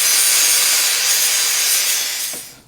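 An angle grinder taking the sharp edges off a steel rocker panel during rust repair on an old car, a loud, steady, hissing grind that holds for over two seconds and then trails off, with no voices.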